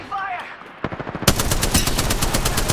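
Rapid automatic gunfire in the video game Apex Legends, starting with a few shots and swelling into a loud, fast, continuous burst that runs to the end.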